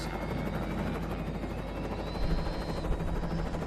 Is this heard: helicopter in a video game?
yes